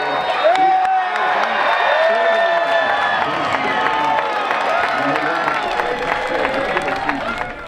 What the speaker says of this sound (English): Plenty of cheering and smiles among the players, coaches, and U of A fans